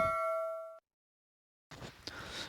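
A bright bell-like notification chime rings once with a sustained ringing tone, then cuts to silence before a burst of broadband noise follows.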